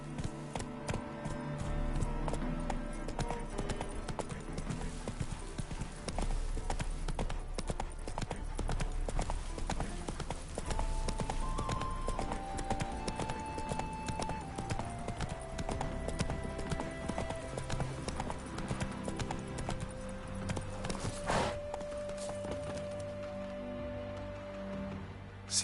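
Horse hooves clip-clop steadily in The Witcher 3: Wild Hunt, an even rhythmic gait that carries right through, mixed with game music and ambience. Brief tonal voices and sounds drift over the hoofbeats.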